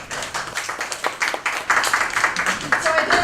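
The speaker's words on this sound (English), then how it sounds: "Please join me in giving our sponsors a big round of applause." Audience applause in a lecture hall at a STEM speaker series, a steady burst of many hands clapping for the event's sponsors, fairly loud and continuous for several seconds.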